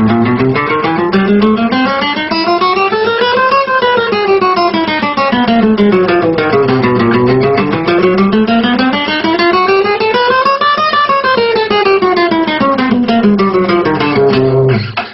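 A rapid, even stream of guitar notes climbs and descends the neck in repeating waves, played loud and fast as a continuous finger exercise.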